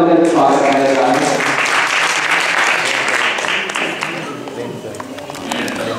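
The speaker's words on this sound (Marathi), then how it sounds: "मला टाळ्या वाजवून त्यांचं स्वागत करायचं आहे" An audience at a village literary conference's poetry session claps to welcome a poet, a loud, full round of applause that fades gradually while a voice speaks briefly at the start.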